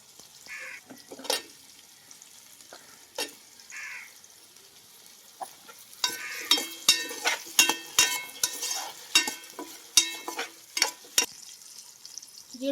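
Potatoes being stirred in a frying pan for vegetable biryani: scattered scrapes early on, then a dense run of sharp, close spatula scrapes and clatter over a light sizzle, with no one talking.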